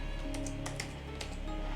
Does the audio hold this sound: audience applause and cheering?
no